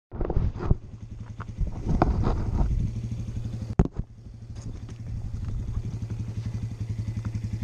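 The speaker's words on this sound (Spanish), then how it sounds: "Mira, la moto del compa Luis, la del pinche MC Core y la del pinche Skips." Motorcycle engine idling on a dirt trail ride near Lake Elsinore and Perris, California, with a steady throbbing low rumble, a few louder blips and clattering knocks early on, and a sharp bang partway through.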